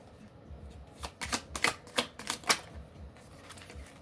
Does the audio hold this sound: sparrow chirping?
no